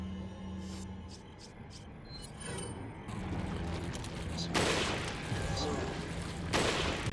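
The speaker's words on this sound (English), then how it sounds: "God, the sniper rifle's too good" Sniper rifle shots in the Resident Evil 4 video game, a few sharp cracks among mechanical clicks and bolt-action rattles, with a voice talking over the game sounds.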